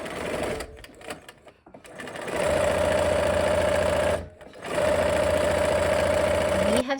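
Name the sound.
sewing machine stitching a quarter-inch seam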